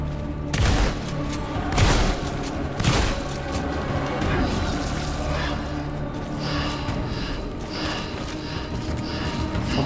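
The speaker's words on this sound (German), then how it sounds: "Schuss mit der Pumpgun, das ist wenig." Heavy booming pump shotgun shots fire one after another early on in a video game, followed by mechanical clatter and a dense, noisy game soundscape.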